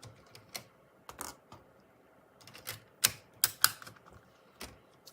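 A paper trimmer blade cuts through paper during a Creative Memories scrapbooking session, producing a handful of sharp, close, dry clicks and short slicing sounds spaced irregularly over quiet pauses.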